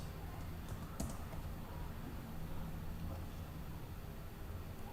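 Someone types on a computer keyboard, producing faint, sparse key clicks over a steady hiss of background noise.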